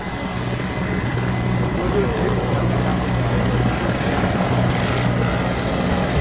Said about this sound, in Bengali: আপনারা দেখতে পাচ্ছেন প্রথম এমআই সেভেন্টিন হেলিকপ্টার বহন করছে বাংলাদেশের জাতীয় পতাকা